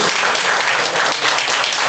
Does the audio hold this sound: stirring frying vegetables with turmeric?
no